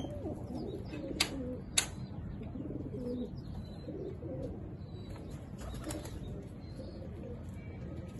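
Male and female Sialkoti pigeons coo softly in a loft, low throaty calls repeating over steady background noise, with a couple of sharp clicks or wing flaps near the start.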